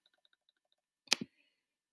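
A computer mouse gives a crisp double click, two sharp close clicks in quick succession after faint tiny ticks, then quiet.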